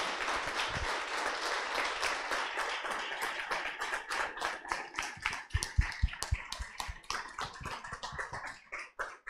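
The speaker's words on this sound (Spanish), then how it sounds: "por favor, un aplauso para el doctor, este, por su charla" An audience claps steadily after a talk at a data conference, the applause gradually thinning into scattered individual claps toward the end.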